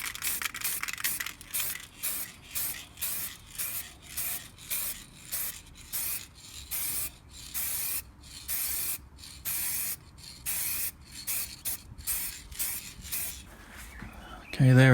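Spray paint being applied in light coats, repeated short hissing bursts in an even rhythm, each about half a second long, close and clear, alone with no talking over them.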